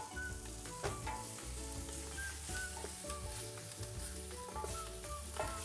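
Sausage and smoked pork (boucané) frying in a pan over a strong flame for rougail saucisse, with a steady, loud sizzle, occasional stirring scrapes, and a musical background playing underneath.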